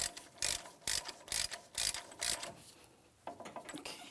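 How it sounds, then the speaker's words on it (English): Hand ratchet snugging an axle nut on a 2007-2014 GMC Sierra 2500 HD truck, a rapid series of close, loud clicking strokes in bursts, then quieter, lighter clicks. "when we tighten this axle nut, we have to do it by hand"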